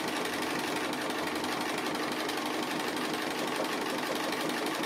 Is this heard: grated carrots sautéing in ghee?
no